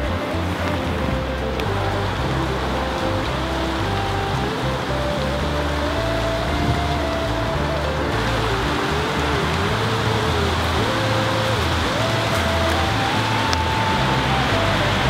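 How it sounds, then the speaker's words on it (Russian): Steady rain hisses continuously outdoors, a dense even wash of drops with a low rumble underneath, no voices. "И пошел дождь, и, наверное, мне нужно куда-то спрятаться."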